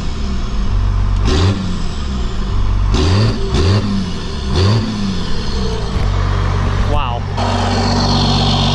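A red Cummins 12-valve diesel truck fitted with a mini smoke stack revs up several times close by, each rev rising in pitch and falling back to a loud, rumbling idle, with a brief exclamation from a voice.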